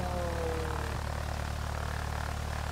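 A propeller airplane engine drones steadily and loudly close by, a constant low rumble with a faint tonal whine near the start, no voices.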